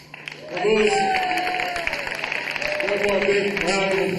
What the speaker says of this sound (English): One more big round of applause for the Hilo players